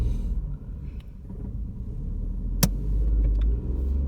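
Learner driver's car engine rumbling steadily during a driving lesson in the Pinner test area, a low continuous idle-to-rev drone as the car prepares to pull away, close and fairly loud with a brief click partway through.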